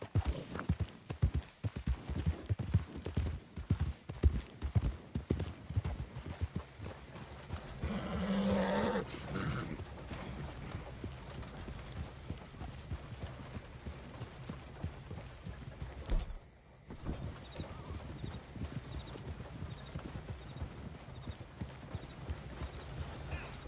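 Horse hooves clip-clopping in the video game Red Dead Redemption 2, a steady rhythmic gait that runs through most of the stretch, with a brief whinny partway through and a short pause before it picks up again.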